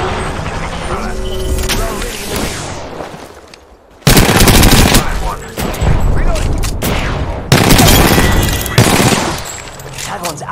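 Loud, dense bursts of automatic gunfire in a fast-paced Apex Legends battle, long rapid volleys that cut out and restart, with game voices and a player talking over the shooting.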